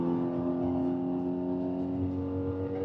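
Modified Mazda 3 with a 2.0 Skyactiv engine driven fast, a steady, loud in-cabin engine drone with strong tonal harmonics holding across the whole stretch, no talk.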